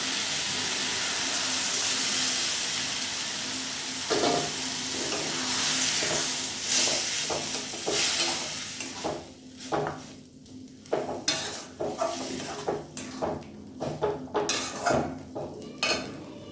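Boiled pea dal tipped into a hot pan of kulekhara greens and stirred, a steady sizzle with scraping spoon and clinks of metal cookware that grow more irregular and choppy toward the end, no talking.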